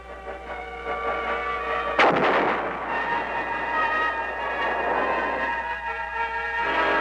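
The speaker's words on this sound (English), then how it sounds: "The big mobile guns continued to do their share in dispersing the enemy." Heavy mobile artillery firing during a Vietnam War combat operation: a loud boom around the two-second mark followed by a long rumbling roll, set over a steady mechanical drone, with no voices.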